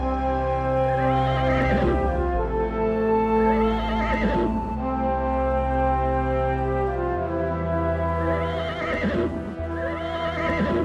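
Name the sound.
horses neighing and hooves clip-clopping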